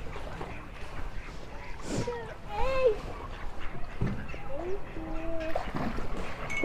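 Ducks quack in short scattered calls as people feed them bread beside the water, with talk running throughout and the birds audible among the voices.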